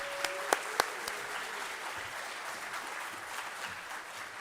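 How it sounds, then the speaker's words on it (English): Audience applause at a leadership conference for men of color: steady, moderately distant clapping throughout, with a few sharper claps standing out near the start. "how about another round of applause for Chancellor Rodriguez?"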